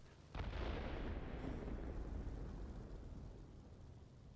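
A bomb blast in a video game: one sudden heavy boom that rolls into a long, dense, fading rumble, distant and muffled with no voices.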